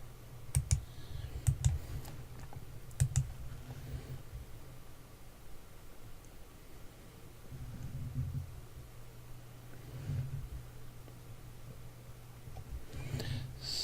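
Computer mouse clicks at a desk, a few sharp close clicks in quick pairs early on, then sparse faint clicks and soft handling noise.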